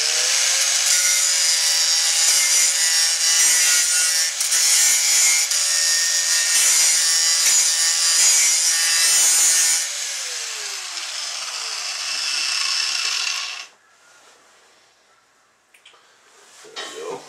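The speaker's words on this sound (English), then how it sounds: "just gonna give it a quick little grind in there to be sure" An angle grinder grinds a weld on a steel tractor plow part, a loud continuous harsh whine for about ten seconds, then a lighter stretch before it winds down and stops, with quiet clatter after.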